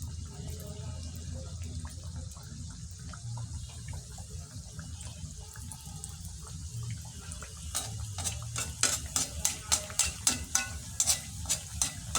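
A puri frying in hot oil, a soft, fairly quiet bubbling sizzle that grows busier near the end with a run of rhythmic scraping or splashing strokes.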